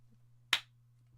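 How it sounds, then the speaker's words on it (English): A single sharp hand clap to sync a recording on a livestream set, one crisp near strike standing alone over a steady low electrical hum. "Do you want to do one more clap?"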